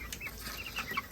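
Pretty backyard chickens gather near their pen on an off-grid Australian homestead, giving faint, scattered clucks and soft chirps that sound quiet and a little distant.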